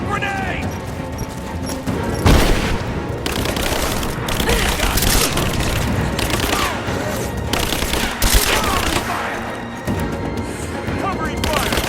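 Dense gunfire from Rise of the Tomb Raider: rapid bursts and automatic fire with occasional heavier booms, loud and continuous through the whole stretch, no talk.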